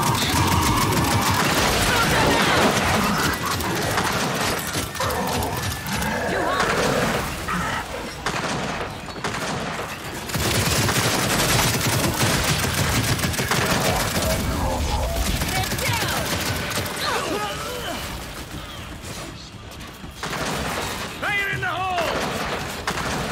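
Sustained gunfire in the video game Gears 5, dense overlapping shots and thuds filling the whole stretch with battle noise, loud and continuous, with some voices mixed in.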